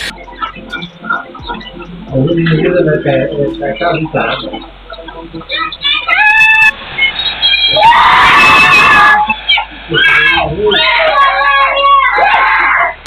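A girl screams in fear at a monitor lizard that has entered a house, her loud shrill cries coming in repeated bursts, with other voices and a background hum.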